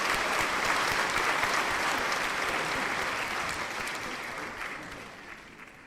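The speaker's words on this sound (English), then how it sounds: "Round of applause for everybody." Warm applause from a crowd at an album listening party, a dense wash of clapping that gradually fades toward the end.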